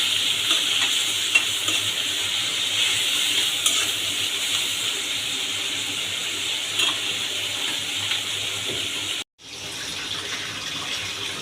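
Tomatoes and chilli sizzling in oil with a bay leaf in a pan for fish roe bhuna, a steady close frying hiss with light stirring clinks, cutting out abruptly near the end before resuming.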